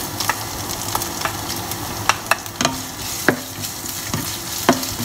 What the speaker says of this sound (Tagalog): kailangan isotay-sotay muna natin yung luya. Para matoast siya ng konti